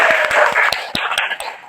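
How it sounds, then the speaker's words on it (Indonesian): Scattered hand claps from a small classroom audience, a handful of sharp, uneven claps over a soft murmur of the room, moderately near and fading toward the end. "Beri tepuk tangan dulu."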